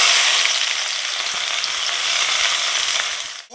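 Chopped onions sizzle steadily in about 150 grams of hot oil while cooking chicken, a dense, loud crackling hiss that holds evenly throughout before cutting off abruptly at the very end.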